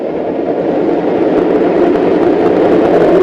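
A pack of MotoGP-style racing motorcycles at a race restart gives off a steady loud engine roar that holds level and climbs slightly in pitch with no clear gaps.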